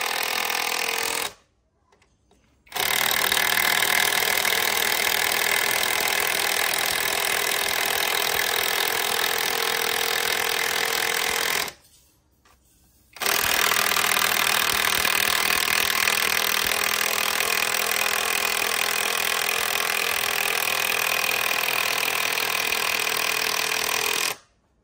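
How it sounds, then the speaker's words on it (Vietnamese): A blue Navara cordless impact wrench, a budget bolt and screw driver, runs in two long continuous bursts with a steady mechanical whir and rattle, separated by brief pauses, loud and close. "em test luôn cái con bô lông Navara màu xanh cho anh em mình luôn nha"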